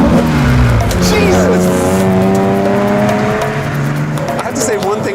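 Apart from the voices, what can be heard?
Nissan GT-R Hakosuka engine revving with carbureted intake noise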